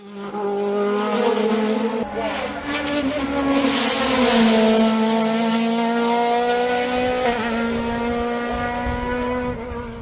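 A Norma M20 FC 2-litre race car climbs the Col Saint-Pierre hillclimb, its engine howling hard and close, with sharp shifts breaking the rising pitch twice before it pulls away strongly.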